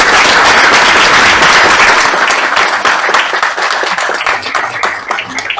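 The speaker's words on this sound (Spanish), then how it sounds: "le damos un aplauso al profesor." A lecture audience bursts into loud, dense applause for a professor after a talk on water management, the clapping sustained and close before slowly thinning.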